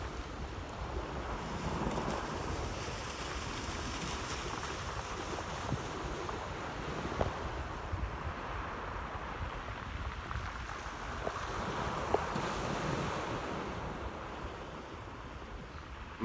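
Sea waves wash in on the seashore under steady wind buffeting the microphone, a constant soft roar with no voices, lasting throughout.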